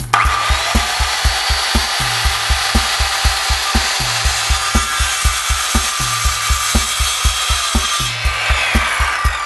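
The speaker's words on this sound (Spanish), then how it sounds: "utilizando topes guías dispuestos de acuerdo al ancho de la base de nuestra sierra circular, vamos a ranurar en estas franjas que hemos trazado" A circular saw cuts grooves in 50 x 5 MDF boards, with a loud, continuous whine over rapid, regular thumping pulses, close and unbroken for the whole stretch.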